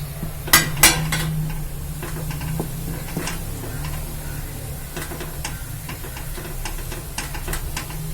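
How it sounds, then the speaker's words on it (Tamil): A spoon knocks and scrapes against a pot of boiling cowpeas and coconut, two sharp clanks at the start, then a low steady bubbling hum with light scattered taps. "அடுப்பை கொஞ்சம் சிம்மில் வச்சுக்கிட்டு நம்ம கிண்டுவோம்"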